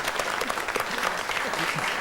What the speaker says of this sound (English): I think a round of applause for Sheldon Lewis.